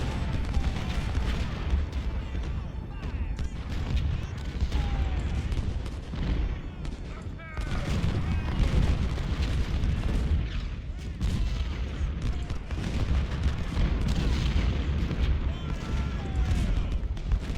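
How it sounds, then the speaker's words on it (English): Cannon fire in the Civil War strategy game Ultimate General: Civil War during the Siege of Suffolk, with repeated heavy artillery booms and rumbling volleys layered closely over one another throughout. "We're finally bringing up more cannons."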